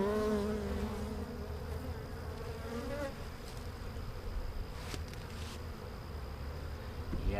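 Honey bees buzzing loudly and steadily during a hive check of a colony that hasn't been opened in a long time, a dense close drone with shifting pitch as individual bees fly near.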